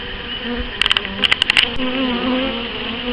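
Honeybees buzz around a queen cage during a false swarm, giving a steady close droning hum with a short cluster of sharp clicking taps partway through.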